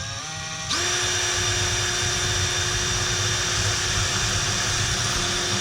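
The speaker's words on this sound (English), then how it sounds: "This is a countersink drill, so it's got a drill bit and it's got a little countersink cutter." A power drill with a countersink bit spins up suddenly and holds a steady, high whine as it bores through plastic, with no voices.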